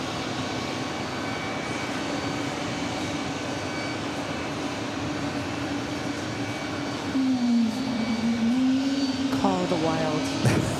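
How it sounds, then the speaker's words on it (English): An Airbus A220-300 jet at JFK, its engines giving a steady whine under a broad rumble, rising to a louder, wavering tone partway through before a second higher whine joins near the end. "That's that Airbus A220-300 in front of us here"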